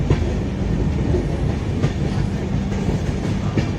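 A passenger train rolls along the winding hill railway toward Haflong in Assam, with steady wheel rumble and rhythmic clickety-clack from the rails, close and continuous.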